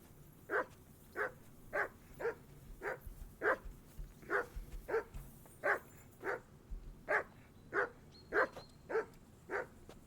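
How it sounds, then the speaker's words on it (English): A dog barks over and over in a steady rhythm in the video game Kingdom Come: Deliverance II, moderately close, with brief pauses between short runs of barks. "call off that damn dog before he wolfs down the last of our mates"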